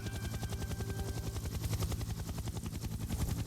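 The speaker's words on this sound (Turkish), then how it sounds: "Helikopter biz hemen götür" Helicopter in a video game, a loud, fast rhythmic rotor chop that pulses steadily and continuously throughout, with no voices.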